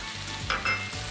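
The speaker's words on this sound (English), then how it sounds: "Add some sesame oil to the pan" Sesame oil sizzling in a wok-style pan with rice noodles, a steady close frying hiss with brief brighter crackles partway through, no talking.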